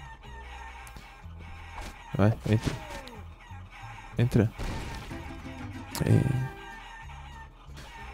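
Chickens in the video game Guacamelee! cluck and squawk in several sharp clustered bursts over steady game music, while someone briefly speaks Portuguese nearby.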